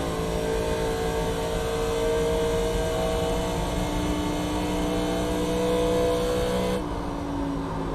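A NASCAR Legends car in the iRacing simulator accelerates out of a turn at Charlotte, a steady buzzing engine drone rising in pitch, then cutting off near the end.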